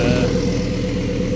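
A loud, raw car engine with no exhaust fitted idles steadily with a harsh, rumbling drone, unmuffled and close, with no talking.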